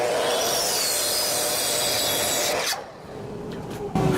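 A saw blade rasps through a wooden 4x4, a loud, continuous grinding cut up close that dips briefly near the end before the blade bites in again.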